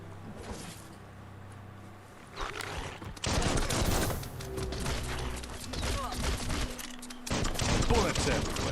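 Dense gunfire in Biomutant, a game set among post-apocalyptic critters, as bullets rattle from all sides near a bridge, with bursts thickening partway through over steady game ambience.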